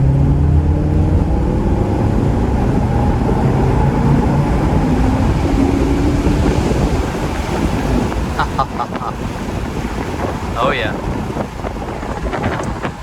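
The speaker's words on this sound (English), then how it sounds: "Open top experience, wind blowing through my hair, and naturally aspirated V8." Open-top 2019 Maserati GranTurismo Cabriolet with a naturally aspirated V8 accelerating, a steady broad engine roar mixed with heavy wind rush across the microphone, with speech over it.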